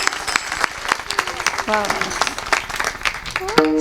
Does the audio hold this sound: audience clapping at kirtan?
yes